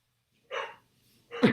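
Two short dog barks with a pause between them, moderately close, the second slightly louder, against an otherwise quiet background.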